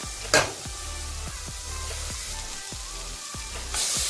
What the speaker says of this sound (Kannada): ಹಂಗೆ ಹಾಕ್ಕೊಂಡು ಚೆನ್ನಾಗಿ ಫ್ರೈ ಮಾಡ್ಕೊಂಡ್ಬಿಡ್ಬೇಕು